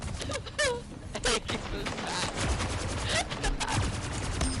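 A video game plasma rifle fires a rapid string of loud, sharp energy shots over dense battle noise, with talking mixed in throughout.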